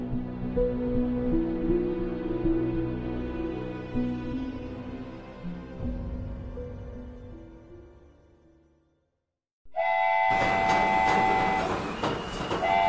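A train rolls along with a steady low rumble and clatter under a long horn. The sound drops to brief silence, then a sharp, bright whistle and rail noise burst in loudly.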